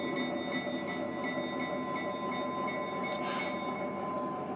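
A Lionel Burlington Zephyr model train runs along its track with a steady, even mechanical hum and whir, alone and fairly quiet, with a faint high electrical tone underneath.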